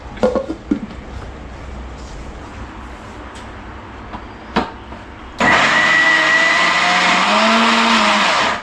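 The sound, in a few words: mixer grinder grinding poha dosa batter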